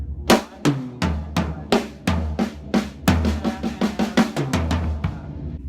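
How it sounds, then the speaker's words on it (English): A drum kit plays a paradiddle-diddle in triplets, with close, loud snare and tom strokes mixed with bass drum hits in a steady, rolling pattern and no talking. "I put in a paradiddle diddle, and that would sound like this"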